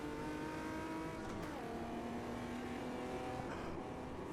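Omega Stock Car 99 racers in the AMS2 sim racing game accelerate together toward the line at Autodromo Yahuacocha, a steady high engine whine holding throughout with a slight pitch rise near the end.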